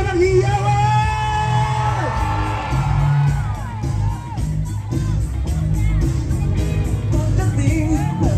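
A crowd at a charity event in Manila's District 1 cheers, yells and whoops, loud and sustained throughout with many overlapping voices.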